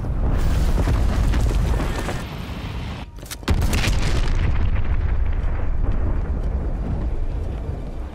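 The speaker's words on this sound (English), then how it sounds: "Cruise missile inbound." Cruise missile explosion in the game Call of Duty Black Ops Cold War, a loud, heavy blast with a deep rumble that stays thick and continuous, a brief dip and then a second surge of booming roar.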